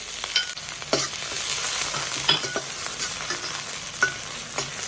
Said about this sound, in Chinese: 然后用葱姜小米辣爆香